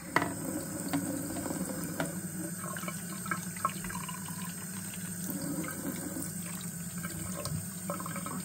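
Water pours steadily into the water tank of a Bosch Unlimited 7 Aqua cordless vacuum, a continuous close splashing fill with a few faint knocks and no talking.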